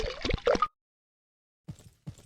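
Brake fluid gurgles and plops as it pours into a car's reservoir in a repair game, a short burst of close liquid sounds, then silence, then a few softer splashes.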